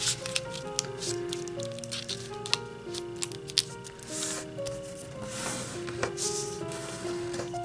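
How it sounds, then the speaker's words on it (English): A sheet of origami paper for a 3D fish is creased in half, giving light papery crinkles and taps over a steady musical backdrop. "now fold in half"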